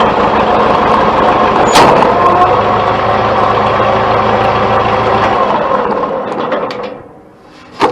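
An antique 450 tractor engine runs close and loud with a steady, even drone, then fades lower near the end before a brief final thump.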